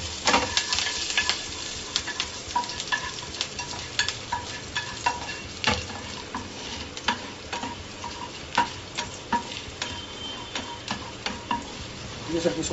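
Whole red and green chilies sauté in a hot pan, a steady sizzle broken by frequent sharp scrapes and clicks of a spoon stirring against the metal, close and continuous with no talking.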